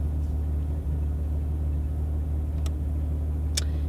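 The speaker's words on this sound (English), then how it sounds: "we're in his car and we were just driving through some trails" Low car engine rumble from inside a vehicle driving along trails, steady and close, with a couple of brief high clicks partway through; no one speaks.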